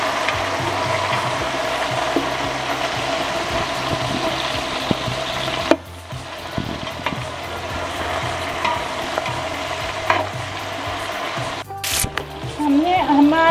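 Chicken with browned onions and marinated egg frying in a pan for biryani, giving a steady loud sizzle with stirring scrapes throughout and a brief break partway.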